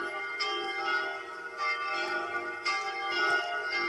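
Three cathedral bells of Saint-Étienne in the Block Craft 3D video game peal together, overlapping strikes ringing out in a continuous, resonant swinging volley with rich sustained tones.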